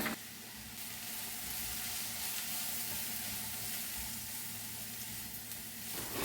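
Chili and coriander powder masala fries in a pan with a soft, steady sizzle that runs evenly throughout, fairly quiet and close, with no talking.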